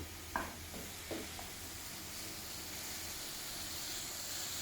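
Mushrooms and beef seal and brown in a pan for a beef stroganoff, giving a faint, steady sizzle with a couple of soft utensil clacks near the start.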